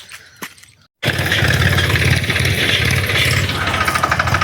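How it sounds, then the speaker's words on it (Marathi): A farm tractor pulls up. After a brief quiet pause its engine bursts in loud and close, a steady rumbling roar with rattling that holds for several seconds without any talk. "पोरांचा ट्रॅक्टर आलाय बरं का."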